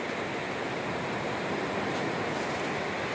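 Sea waves washing onto a sunny seashore, a steady broadband roar with no distinct breaks, fairly soft and constant throughout with no voices over it.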